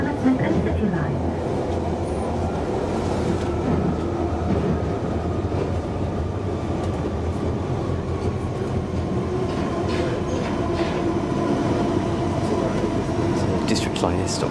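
A London Underground District line train near Mile End station: a steady, loud rattling rumble with clattering wheels runs throughout, with faint voices in the carriage.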